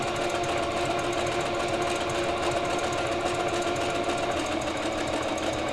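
A sewing machine stitching knit leggings runs in one continuous, fast, even mechanical whir with a dense rattling drone, loud and close, with no talking over it.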